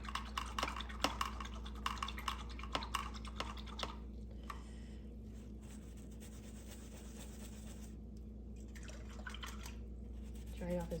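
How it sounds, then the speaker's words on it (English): An acrylic paintbrush is rinsed in a jar of water, tapping and clicking rapidly against the glass before settling into quiet dripping, with a voice speaking close by. "And at this point, you can rinse off your brush."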